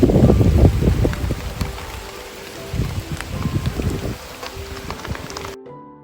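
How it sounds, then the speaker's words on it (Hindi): Monsoon rain falls on a rice-farming hillside in Maharashtra, a steady hiss of rain mixed with rough, buffeting gusts of wind against the microphone, louder at first and then cutting off abruptly. "देखो कितना बारिश आ गई"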